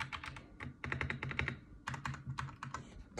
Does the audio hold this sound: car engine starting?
no